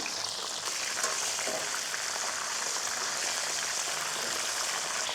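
Turnips and radishes sizzle in hot oil for a vegetable biryani, a steady dense crackle and hiss holding close and even throughout with no speech.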